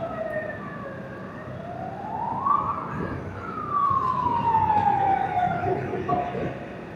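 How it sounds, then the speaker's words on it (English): A wailing siren rises and falls in long sweeps, echoing inside a dark road tunnel in Yunnan, China, over a steady low rumble of traffic. "oh, I can hear sirens."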